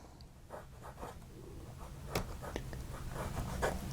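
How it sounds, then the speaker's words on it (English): A fountain pen with an architect nib writes on Fabriano paper, giving faint, soft scratchy strokes in short bursts over a quiet room hiss. "if you really want to do fine work, you just hold it vertical and you get a nice fine line"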